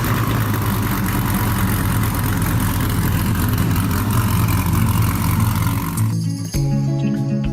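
A Nissan GTR engine runs at a steady, loud, close idle, rumbling continuously before cutting off abruptly near the end, followed by a brief lower hum.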